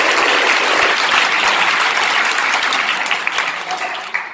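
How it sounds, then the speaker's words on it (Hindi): Applause at a village school event for two students, a loud burst of many hands clapping together that holds steady for a few seconds and thins toward the end. "तालियां बजाइए दोनों बच्चों के लिए"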